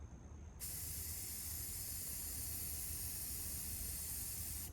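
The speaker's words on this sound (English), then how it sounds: "always clear the nozzle. Turn it upside down. Wait for it to spray clear." An upside-down aerosol spray can clearing its nozzle gives a continuous, sharp spray hiss that starts abruptly after a moment of quiet and holds steadily to the end.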